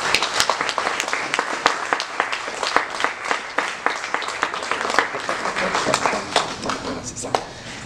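An audience applauding after a conference talk, a dense close burst of many hands clapping with sharp individual claps standing out, fading toward the end, with a voice speaking over it.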